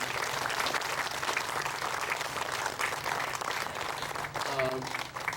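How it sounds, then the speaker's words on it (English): Sustained applause from an audience at an outdoor community gathering in Greenfield, Ohio, steady and fairly near throughout, with a brief voice rising over the clapping near the end. "she deserves a great big round of applause"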